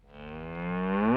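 A single cow lows in one long, rising moo that grows steadily louder toward its end, close and clear with no talking.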